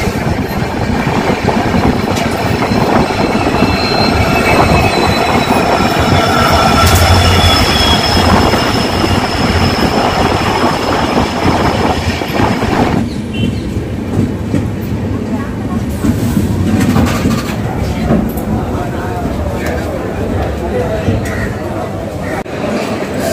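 The Lalbagh SF Express rumbles steadily along the rails after leaving platform 2, with loud, continuous wheel noise and rhythmic clatter close by throughout, easing slightly in the second half.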